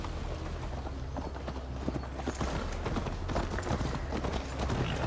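Rapid, steady clip-clop of horse hooves from riding in Assassin's Creed Valhalla, close and continuous over a dense bed of ambient game sound, with no talking.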